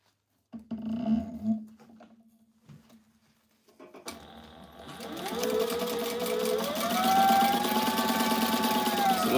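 Sewing machine stitching the internal pocket of a fanny pack: faint clatter and a low hum for the first seconds, then the motor runs steadily and loudly, its whine rising slightly, continuing to the end.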